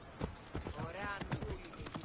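Horse hooves clip-clop in Assassin's Creed Origins, set in ancient Egypt, a steady rhythmic trot running beneath continuous talking and game ambience.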